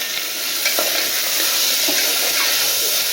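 Chopped chayote is stirred into fried onions in a pan, with loud, close scraping and shuffling strokes over a constant hissing sizzle.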